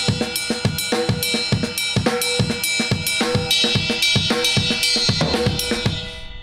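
Drum kit plays a linear rhythm with the leading hand moved onto the ride cymbal: crisp, evenly spaced hits with a bright cymbal wash ringing over them and steady kick and snare accents, close and loud.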